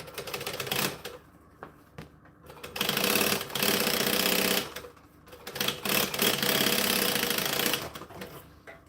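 Domestic sewing machine top stitching bum bags, running in bursts of rapid stitching with short pauses between, loud and close.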